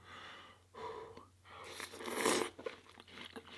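Close, crunchy bites and chewing of fresh watermelon, with a few sharp crunches in the middle and soft breathing between them, no talk.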